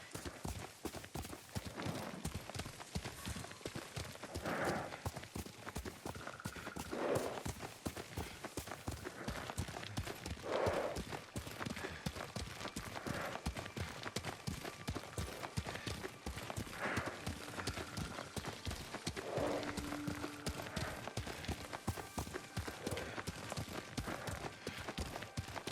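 Horse hooves galloping in the video game Ghost of Tsushima: a steady, rapid run of hoofbeats continues throughout at moderate loudness, with faint voices or tones surfacing now and then.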